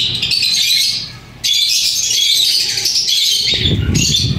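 Royal pigeons with red-rimmed eyelids and red beaks call in a loft, loud and close, the squawking, chirping calls running almost without pause through the clip.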